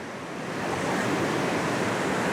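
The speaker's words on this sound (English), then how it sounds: "the force of this water is really loud" Loud water rushes through a tight rock canyon, a powerful, continuous broadband roar that swells slightly and then holds steady, close and dominant with no voices.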